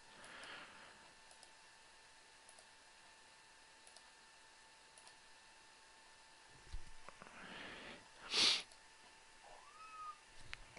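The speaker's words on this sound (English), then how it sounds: "Sorry if you can hear some meowing in the background" A pet kitten meows faintly in the background of a quiet room, with a couple of short, soft cries and a few light clicks nearby.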